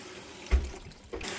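Fresh water runs briefly into a GE 6-gallon mini tank electric water heater, a short splashy gush with a low thump partway through, close by and fairly faint.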